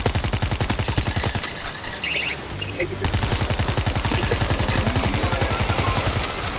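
Rapid, sustained machine-gun fire rattles loudly and close in the World War Z zombie shooter. The bursts break briefly midway, then resume as steady automatic fire.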